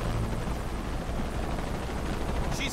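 A helicopter in the video game Shadow of the Tomb Raider thrums steadily, a dense low rotor roar that stays loud and continuous, with faint combat noise near the end.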